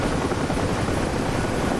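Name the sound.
helicopter flying, from DCS video game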